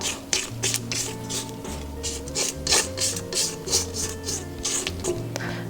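A spatula scrapes cookie dough down the sides of a mixing bowl in a quick run of close, rough rasping strokes, about a dozen in an uneven rhythm, with no talk.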